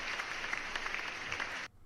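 Applause sound effect: dense, steady clapping at moderate level that cuts off abruptly near the end, with no voices over it.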